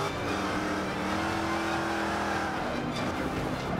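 A race car engine in Forza Motorsport 5 drones loudly and steadily at high revs, with a constant roar filling the whole stretch and faint tire noise.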